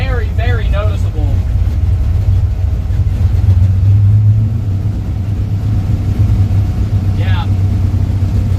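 A bracket racing car's engine drones loud and low from inside the cabin during a hard pull, a steady heavy roar with a slight rise in the middle as someone talks over it.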